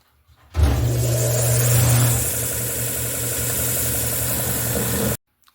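A 6-inch stationary belt sander sands the ends of a wooden cutting board, starting abruptly with a loud steady motor drone and abrasive hiss that runs evenly for several seconds before cutting off.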